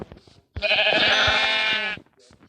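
A sheep in a video game lets out one loud, drawn-out bleat of about a second and a half, close and clear, with brief quieter sounds before and after it.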